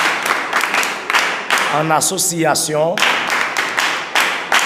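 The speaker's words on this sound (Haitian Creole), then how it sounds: "Acclamez Dieu en association." A group claps in bursts of fast, close applause, pausing briefly while a voice chants or sings over sparse claps before the clapping resumes strongly.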